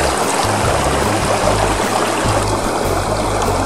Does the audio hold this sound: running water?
yes